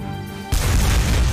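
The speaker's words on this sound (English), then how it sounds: "Those cannons made such a awesome sound." A sudden deep, booming blast of video game cannon fire, from Front Mission 4, cuts in after a quieter stretch, then rumbles on loudly with heavy low-end impact.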